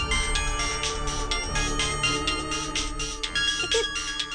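A mobile phone left behind rings for an incoming call, playing a loud, continuous musical ringtone with a steady rhythmic beat throughout, with no other sounds over it.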